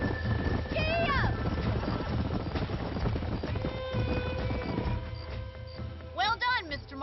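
Horse hooves galloping in Red Dead Redemption on Nintendo Switch, a steady rapid clip-clop that runs under game voices and music throughout.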